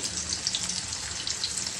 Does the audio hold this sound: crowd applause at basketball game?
no